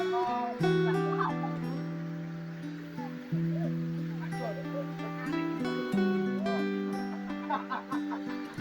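Ducks along a hiking trail on Mount Lorokan give scattered quacking calls, faint to moderate, partly buried under steady background music.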